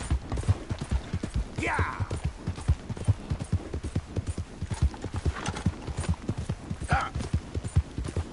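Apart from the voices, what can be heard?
horse galloping, hooves clip-clopping, in Red Dead Redemption 2 video game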